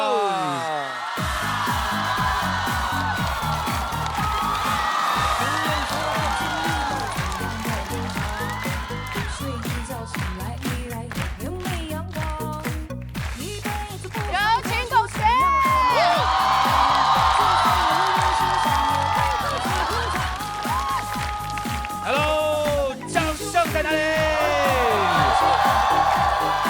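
A studio audience at a Chinese comedy variety show cheers, whoops and applauds a guest's entrance over loud, steady stage music, with the crowd noise swelling in the second half.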